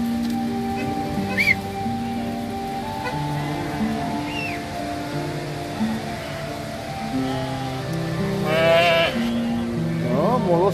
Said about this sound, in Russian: Хороший десарский овцы.